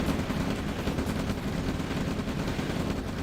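A War Factory is destroyed in a real-time strategy tank battle, heard as a continuous rumbling roar of explosions and gunfire that holds at an even level with no talking.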